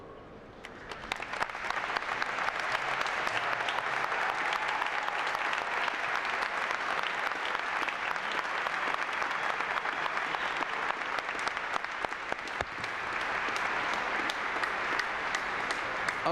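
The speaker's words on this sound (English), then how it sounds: "give your parents, your family, and friends a round of applause for their support and encouragement" A graduation ceremony audience of graduates, parents and families claps in a large hall, sustained and loud, building quickly and then holding as a dense, even roar of applause for many seconds.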